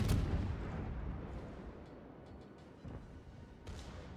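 Naval guns firing armor-piercing shells in the World of Warships video game boom out as heavy, rumbling artillery blasts, one strong hit at the start followed by several further distant thuds and crackles against a low battle din.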